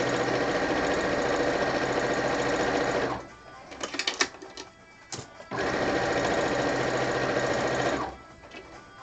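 A sewing machine stitches binding in two long steady runs of fast mechanical whirring, stopping for a few seconds in between with small handling clicks and rustles.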